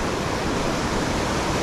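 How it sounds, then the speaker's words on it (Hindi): Tamarind Falls in Mauritius roars as a steady, dense rush of falling water, loud and continuous, with no other sounds. "ये है वाटरफॉल"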